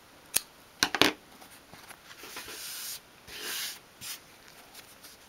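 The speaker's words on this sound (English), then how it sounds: "once again you can just snip that off" Small scissors snipping off the thread tail on a stitched 1/12 scale dolls house door mat; a few quiet, crisp snips close up, followed by faint rustling handling sounds, no talk.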